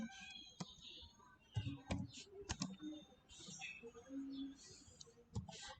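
Keys are tapped on a computer keyboard while an SQL insert statement is entered, giving irregular clicks and short bursts of typing at close range, with faint background noise and occasional soft low thumps between strokes.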